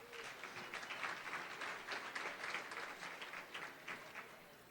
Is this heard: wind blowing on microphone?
no